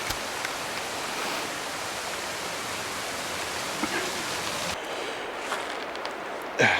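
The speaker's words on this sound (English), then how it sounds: "Cool little waterfall, water trickle along the side of the trail." A small waterfall trickles beside a rail trail, a steady, even wash of running water close by that carries on unbroken, with a faint shift in tone near the end.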